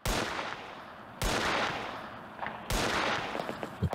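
Three loud gunshots from the Animal Village game, each a sharp blast with a decaying tail, spaced about a second and a half apart, with no talk over them.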